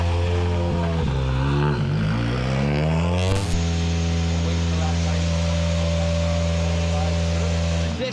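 WRC Rally1 cars firing up at Rally Croatia 2023, engines revving and dropping in pitch before settling into a loud, steady, close-by idle drone that carries on to the end.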